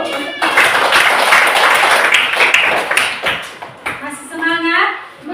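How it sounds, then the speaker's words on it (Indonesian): An audience gives a dense round of hand clapping after a talk, loud and sustained for several seconds, then tapering off as a voice begins speaking. "kita kasih tepuk tangan dulu"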